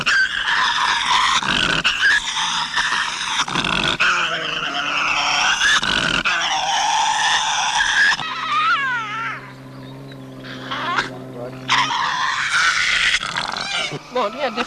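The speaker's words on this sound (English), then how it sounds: "this one puts on a fierce display, accompanied by the characteristic guttural growls and screams" Tasmanian devil in a fierce display, giving loud guttural growls and harsh, screeching screams in repeated bursts close to the microphone, with rattling snarls and some tonal wailing in between.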